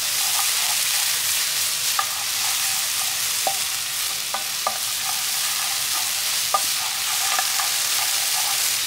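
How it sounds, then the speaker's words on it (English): Garlic and onions sizzle steadily in a hot pan as they are stirred, a dense even hiss broken by occasional sharp clicks of a utensil against the pan, close and continuous with no talking. "Straight in with the onions, their moisture content will stop the garlic from cooking anymore. Give that a good stir."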